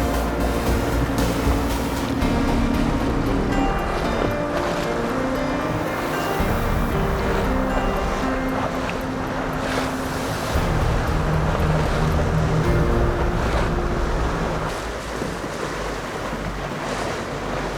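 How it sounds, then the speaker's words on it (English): Allberg 30 sailboats beat upwind during a Wednesday night yacht club race, with steady wave wash and wind rush against the microphone running continuously throughout. "And the Allberg 30s powering upwind"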